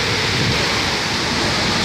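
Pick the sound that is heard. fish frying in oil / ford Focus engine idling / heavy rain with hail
heavy rain with hail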